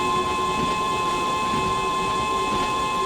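Train Sim World 2 train on the Island Line, a loud steady rolling rumble with a constant tonal whine and a subtle pulsing beat running throughout.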